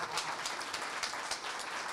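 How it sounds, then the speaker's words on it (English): Audience applause for Matt at a colorist meetup: dense, steady clapping from a crowd holding at an even level through the whole stretch, with no voices above it. "can we give Matt a big round of applause?"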